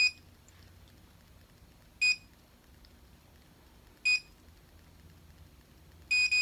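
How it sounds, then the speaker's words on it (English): An MKBOO automatic hair curler beeps in short double-tone bursts that repeat about every two seconds. The bursts are clear and close, quiet in between, and the last one is a quicker pair, with no talking. "Hear the fast beep? That means you need to let it go."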